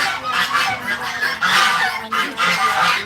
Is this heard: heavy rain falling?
no